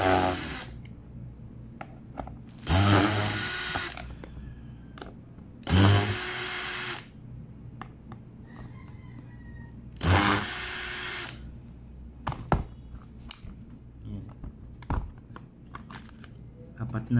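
A power drill backs four screws out of the glove compartment of a Suzuki Burgman Street 125 scooter, with three loud whirring bursts and scattered clicks between them, close by and without speech.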